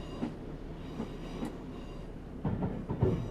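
In Train Simulator 2018, a Class 150/2 diesel multiple unit slows on approach to a platform. Its low, rumbling hum is joined by faint rhythmic clicks of wheels over rail joints, growing slightly busier near the end.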